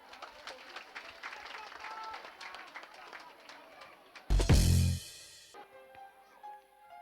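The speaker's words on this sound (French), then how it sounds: "Emma sur la scène de la RTB à l'école avec beaucoup d'applaudissements" A short burst of crowd applause at a school stage show rises suddenly after music and chatter, loud for about a second, then fades into the beat.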